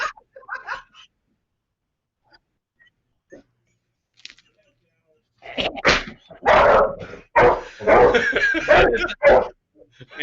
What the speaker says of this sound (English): And that is the dog.